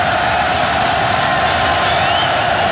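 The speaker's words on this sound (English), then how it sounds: "Crowd that is still here." Stadium crowd at a 2007 Penn State at Temple college football game, a loud, dense, continuous roar of many voices with scattered whoops, with no break across the moment.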